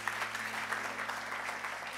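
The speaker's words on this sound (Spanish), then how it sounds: "Dele un aplauso bien fuerte a nuestro Dios." Congregation clapping loudly and steadily inside a church during a sermon, a dense continuous ovation with no pauses or speech.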